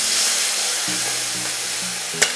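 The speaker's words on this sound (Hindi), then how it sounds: "इसी प्रकार हम बाकी फिश को भी फ्राई कर लेंगे" Small fish shallow-frying in hot oil for an Odia small-fish curry, a loud continuous hiss and crackle up close, steady throughout with one brief sharp click near the end and no voices.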